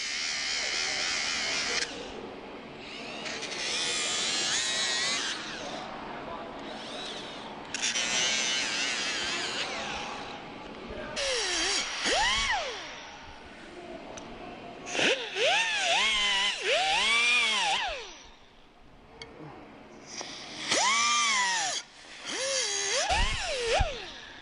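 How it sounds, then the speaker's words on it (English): A power tool spins a Flank Drive Plus socket on a nut, torque-testing it at 25 and 50 foot-pounds. Repeated bursts of high whirring and grinding come through, with rising and falling pitch sweeps as the tool spins up and slows. "we are going to put on our flank drive plus and see if it takes it off at 25 foot-pounds and 50 foot-pounds"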